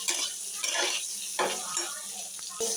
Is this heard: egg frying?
yes